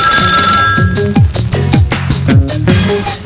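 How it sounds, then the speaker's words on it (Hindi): Telephone bell ringing loudly and close, repeated rapid trills in quick succession alongside a background musical score. "मैं तेरा फोन सुन के आया।"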